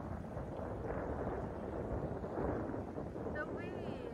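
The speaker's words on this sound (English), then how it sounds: "The wind." Steady wind rushes across the microphone at an outdoor dragon boat contest, a continuous broadband roar that swells slightly midway and stays loud throughout.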